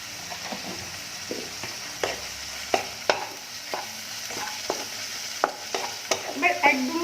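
Biriyani-style Maggi masala sizzles in a pan while a spatula stirs it, sharp scraping clicks and taps landing irregularly over a steady frying hiss, fairly close and moderate in level, with no talking.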